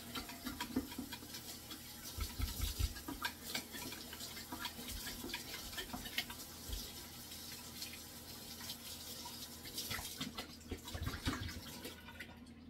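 Long-handled bottle brush scrubbing the inside of a wet narrow-neck water bottle, a steady wet swishing and sloshing with water movement and occasional drips, close and moderately loud throughout.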